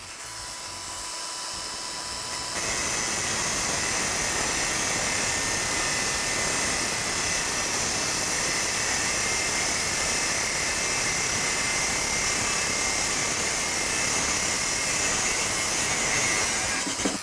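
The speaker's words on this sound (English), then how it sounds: "You can use a hacksaw, or I prefer to use a grinder." An angle grinder cuts through the damaged cable of a Ridgid drain auger with a loud, steady, high-pitched whine and grinding hiss that starts abruptly and runs unbroken to the end.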